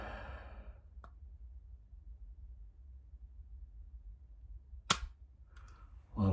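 A single sharp, dry click from a pistol trigger during dry fire practice, heard once, near and fairly loud, with a softer click near the start and faint handling noise afterward in an otherwise quiet room.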